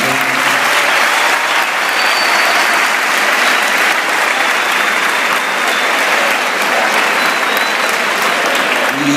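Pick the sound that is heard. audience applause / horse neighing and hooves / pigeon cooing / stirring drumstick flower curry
audience applause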